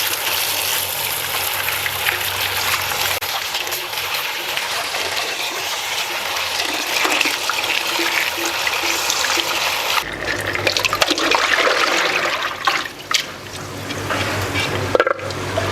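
Velvet beans (cowhage) being rinsed under running water, a steady close splashing and trickling stream that continues without a break, with no voices.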